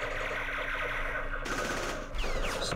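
Game gunfire from 5.56 rifles sprayed into the jungle in a Vietnam war strategy game, with rapid automatic bursts that stop abruptly and then give way to a second volley, with no talk.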